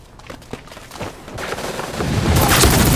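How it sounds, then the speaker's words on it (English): Rapid gunfire in the video game Super Mecha Champions: scattered shots at first, building into a dense, loud, continuous volley of bursts. "Shots heard!"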